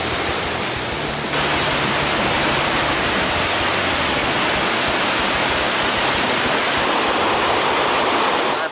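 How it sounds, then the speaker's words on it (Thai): Strong, fast river current rushing through a stream in Thong Pha Phum, Kanchanaburi, a loud continuous roar of churning water filling the whole clip with no voices. "น้ำแรงมากครับใครมาเที่ยวต้องระวัง ลงไปไม่ได้นะครับอย่างคลื่นในทะเลน้ำแรงสุดๆ"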